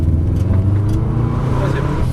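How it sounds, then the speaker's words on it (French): A rally car at the Alès circuit powering out of a corner, its engine a dense, loud rumble heard from the cabin while an instructor talks over it. "Ferme ton virage, et tu accélères."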